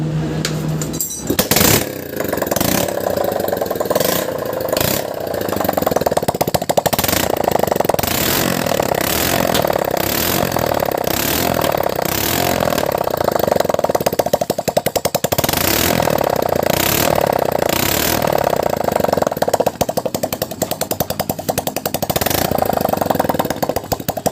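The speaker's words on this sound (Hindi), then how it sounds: "हम इग्निशन ऑन किया और बाइक को स्टार्ट करेंगे" A Hero Passion Pro motorcycle engine cranks and catches after a full engine refit, then runs loud and close with repeated throttle revs that rise and fall in rough pulses over a steady idle rattle.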